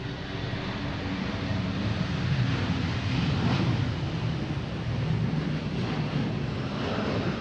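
A Delta Airbus A321, flight 385 bound for Atlanta, taxis at Boston Logan with a steady engine rumble that swells slightly in the middle, alone and fairly loud.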